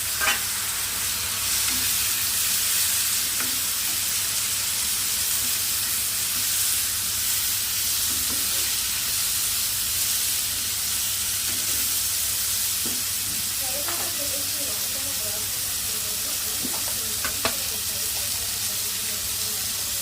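Tomato frying in hot oil with turmeric for a taro root curry, giving a steady close sizzle with occasional stirring scrapes throughout.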